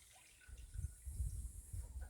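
Swale catchment water poured into a filter and seeping through slowly, soft low gurgles and trickles in a few gentle surges, close and quiet.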